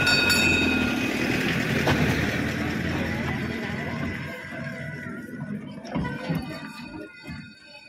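A train rolls along rails in Juslibol, Zaragoza, Spain, a loud sustained rumble with metallic squeal that gradually fades as it moves away, while people talk nearby.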